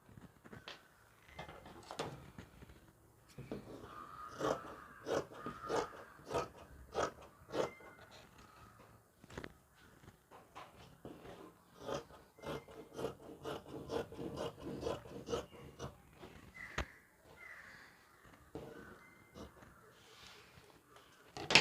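Scissors cutting fabric pieces for a churidar sleeve, giving a run of soft rasping snips and rubbing close by, steady and fairly quiet, with a brief louder scrape near the end.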